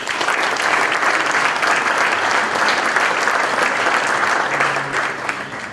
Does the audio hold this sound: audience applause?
yes